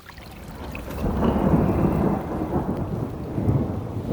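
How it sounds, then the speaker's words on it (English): Steady rain pours down in a heavy storm with a deep rolling rumble of thunder swelling and fading through it, loud and enveloping. "I'm sure you can hear that. It's a pretty good storm we're having."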